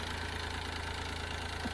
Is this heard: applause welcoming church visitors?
no